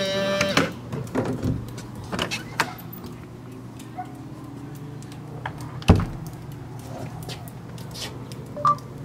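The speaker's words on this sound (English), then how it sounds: "Unlocking garage side door." A smart lock on a garage side door unlocks through a home-automation system, giving a few short mechanical clicks and a sharp clack partway through, amid faint beeps and room noise.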